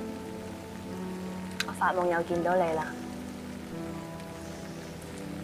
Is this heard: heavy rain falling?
yes